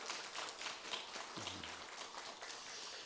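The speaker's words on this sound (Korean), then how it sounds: "박수를 한번 올릴까요?" A church congregation applauds together during a worship service, a soft, dense patter of many hands clapping at a distance, fairly quiet and steady throughout.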